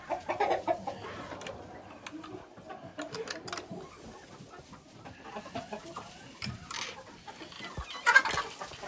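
Buff Brahma chickens in a coop pen cluck and murmur in scattered bursts, near and fairly soft, with a louder squawk toward the end.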